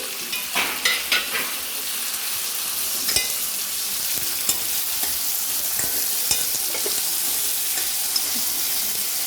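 Green chillies and vegetables sizzle in a hot pan while a utensil scrapes and clatters through them in uneven strokes, close and fairly loud, with no talking.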